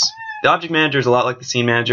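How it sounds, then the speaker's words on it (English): House cats let out brief meows in the background while someone talks steadily near the microphone, the cries partly buried under his voice. "I don't know if you can hear my cats meowing in the background."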